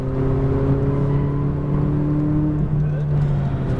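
A McLaren 570S accelerates on a race track, its engine a steady loud drone with a slight rise in pitch, the sound held close and continuous throughout.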